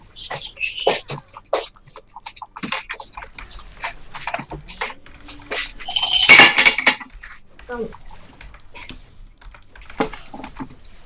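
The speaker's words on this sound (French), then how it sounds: "La vaisselle." Dishes clatter and clink sharply in a burst, sitting among scattered keyboard clicks and brief talk in the background.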